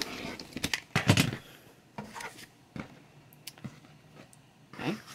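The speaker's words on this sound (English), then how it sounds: "We're going to cut it in half." Quilting fabric is cut in half, the scissors giving a few crisp snips and rustles, with a louder burst of cloth handling near the start and quieter clicks after.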